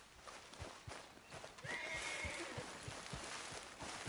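Horse in Red Dead Redemption 2 whinnying once in a short, high, wavering neigh midway through, heard quietly over soft hoof clops and light background noise.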